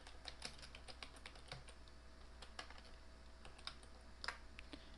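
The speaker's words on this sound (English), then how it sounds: "and we just type in happy birthday." Quick, light keystrokes on a computer keyboard while entering text in GIMP, heard as an irregular run of soft, close clicks over a quiet background.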